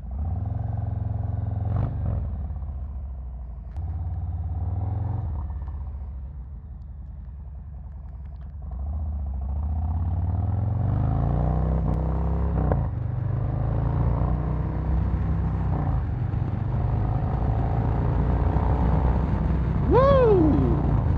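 Custom 2023 Harley-Davidson Street Bob with subtle upgrades riding along, its V-twin engine rumbling steadily and close, revving up through the gears with a rising pitch toward the end.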